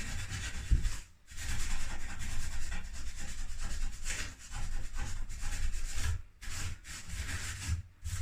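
A Brillo pad scrubs paint off a surface during painting prep, giving a steady, close abrasive rubbing that runs almost continuously with a brief pause near the start and short breaks later.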